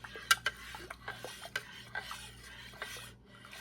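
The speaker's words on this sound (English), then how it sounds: "Give that a good stir." Hot homemade cranberry juice with honey being stirred in a pot: a spoon scrapes and clinks against the sides in irregular, close strokes, quiet apart from a few sharp taps.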